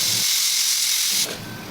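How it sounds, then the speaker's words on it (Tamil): A pressure cooker cooking mutton gravy on a gas stove lets out a loud, steady whistle of escaping steam that cuts off abruptly near the end, leaving a softer hiss. "3 விசில் வந்த உடனே கேஸ் ஆஃப் பண்ணிக்கலாம்."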